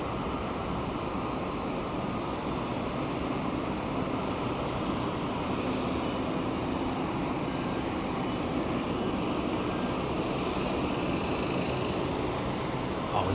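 A Cebu Pacific airliner at Sydney Kingsford Smith Airport gives a steady, broad jet roar that holds level throughout, a continuous engine rush with no voices over it.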